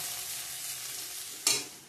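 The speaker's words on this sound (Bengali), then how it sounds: "আর এদিকে বিনস গাজর ভাজা করে নিয়ে নিচ্ছি।" Beans and carrots fry in a pan with a soft, continuous sizzle, broken near the end by a brief, sharper scrape of stirring.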